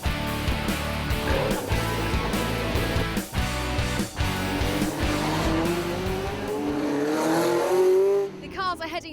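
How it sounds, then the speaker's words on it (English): Lotus Elise race cars roll out onto the Donington circuit for a 2009 trophy race, engines droning and revving together in a loud, continuous roar, with one car's climbing pitch rising above the pack before it cuts off. "The cars are heading out now for race 2"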